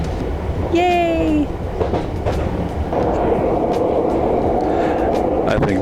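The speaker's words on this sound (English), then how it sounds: "We're in the tube heading to King's Cross." London Underground Piccadilly line tube train from Heathrow toward King's Cross, a loud steady rumble and roar of the moving carriage throughout, with a brief cheer and voices over it near the start.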